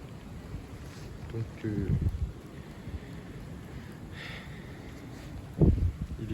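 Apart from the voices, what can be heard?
strong wind gusts during storm Eowyn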